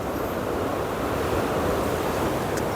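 Steady ocean surf rolls in a continuous wash of noise on a southern Thailand coast, with a breezy rush over the microphone and no distinct breaks between waves.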